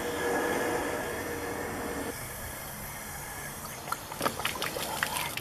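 Water runs steadily from a nozzle into a camper's fresh water tank, a continuous rushing hiss that gives way to lighter splashing and trickling toward the end.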